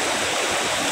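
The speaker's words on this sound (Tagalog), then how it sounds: "Lakas ng baha guys." Strong floodwater after Typhoon Opong rushes in a loud, dense, continuous roar, close by and filling the short moment with no gaps.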